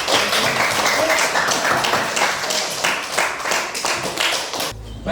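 A classroom bursts into steady applause. Many hands clap densely and loudly for several seconds, then the clapping cuts off abruptly near the end.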